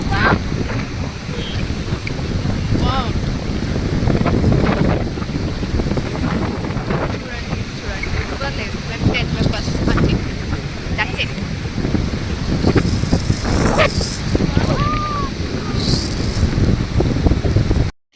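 Waves wash onto a private beach under steady gusting wind, a loud continuous roar of surf and wind buffeting the microphone close up, with faint voices now and then.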